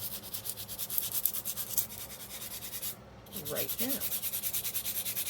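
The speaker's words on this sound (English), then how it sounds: "I do find it easier just to do one of these with the sandpaper on the bottom" A small casting stone rubbed back and forth on sandpaper, a rhythmic rasping scrub in quick regular strokes, close and moderately quiet, pausing briefly midway while a voice speaks a few words.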